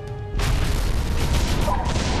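A cannon tower fires in the Defense Grid 2 tower-defense game, one heavy boom that bursts in after a short quiet lead-in, then sustained rumbling blasts and crashes that keep going to the end.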